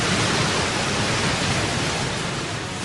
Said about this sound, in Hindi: पानी के इस उफनते गरजते दानव में हजारों घोड़ों की शक्ति होती है